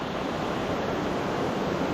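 Large, rough water churns and surges, a dense, continuous roar close by with no pause and no voices.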